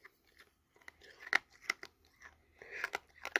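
Crunchy chewing of stale, old bubble gum from baseball card packs, close up, a string of sharp crackling bites and grinding at an uneven rhythm, with brief pauses between bursts.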